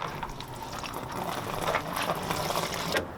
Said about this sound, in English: Drain the coolant from the plug in the bottom of your radiator